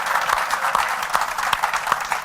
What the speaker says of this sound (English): So hands up, round of applause for Sanele.